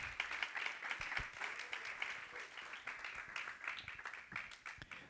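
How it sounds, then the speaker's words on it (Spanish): Congregation clapping during a church sermon, faint and uneven, with scattered hand claps rising and falling in a loose rhythm across the room. "¿Cuánto le dan palmas al Señor?"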